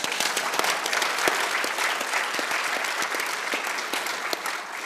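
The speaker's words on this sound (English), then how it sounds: "And maybe a round of applause." Conference audience at an education event in Africa giving a panel a round of applause, a full, sustained burst of crowd clapping, crisp and steady for about five seconds with no talking.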